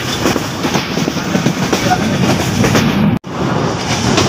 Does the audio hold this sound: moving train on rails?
yes